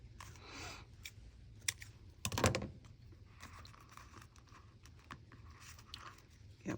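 Trimming a high-gloss book page for a handmade journal, with a sharp cluster of crisp cutting and snipping noises near the middle among soft rustling and handling sounds, no talk.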